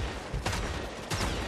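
Gunfire in the online video game The Amazing Eternals: two sharp broadband bursts about half a second apart, loud over a dense background of game noise.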